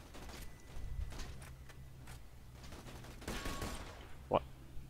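Gunfire sounds in Borderlands The Pre-Sequel, with a few sharp sniper-type shots and cracks over a low, rumbling game ambience. A clearer report lands near the end.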